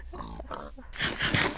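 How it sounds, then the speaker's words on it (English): Pigs on a game server give a short run of grunts and snorty oinks, close and moderately loud, ending in a louder, harsher squeal-like burst. "There's so many pigs."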